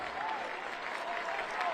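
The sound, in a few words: stadium crowd applauding injured football player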